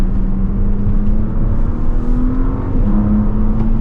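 A 2025 Audi S5 engine pulling hard while driving, loud steady drone heard from inside with pitch climbing gradually, a brief dip near the end like a gear change, then resuming.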